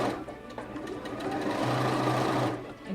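A sewing machine stitches a makeup bag in a steady, close run of rapid needle strokes that speeds up slightly toward the end, with no voices over it.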